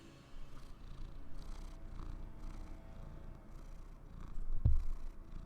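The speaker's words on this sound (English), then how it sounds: "I think he still got a few more purrs" Large cat purring close up in a steady, low rumbling rhythm, fairly quiet and continuous, with a brief soft thump near the end.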